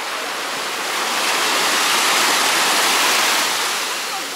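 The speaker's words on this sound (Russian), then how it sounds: "Да, волны прекрасные." Sea waves break and wash onto the shore at Cleopatra Beach in Alanya, Turkey, as a loud, broad roar of surf that swells and fades over a few seconds.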